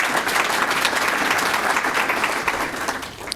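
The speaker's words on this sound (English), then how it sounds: "let's give them a round of applause" Brief round of audience applause at a civic club forum, dense steady clapping that holds throughout.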